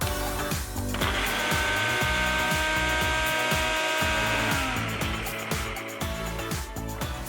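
A Ninja blender blitzes greens into a smooth green puree, producing a loud, steady motor whir with a rapid chopping pulse throughout, near and alone.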